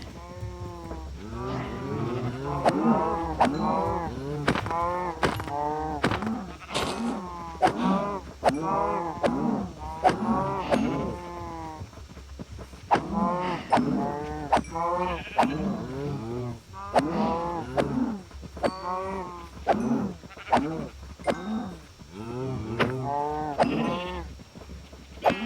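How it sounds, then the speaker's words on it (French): Cows being killed in the Minecraft Cobblemon mod, a long run of repeated game cow moos and hurt bellows, rapid and overlapping, one after another at close range with brief hit sounds between them. "c'est pas si grave si on tue toutes les vaches"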